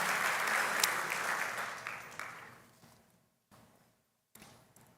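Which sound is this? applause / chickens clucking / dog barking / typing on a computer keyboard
applause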